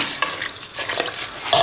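About a litre and a half of water is poured into a pot of split pea soup with cabbage, giving a close, rushing splash with a sizzling, bubbling edge and no voices.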